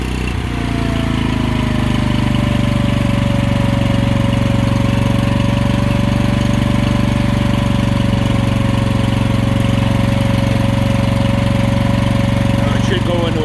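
A Kohler gas engine on a Miller Blue Star 185 DX welder generator runs at full RPM. It gives a loud, steady drone that holds for the whole stretch, with a whine settling in at the start.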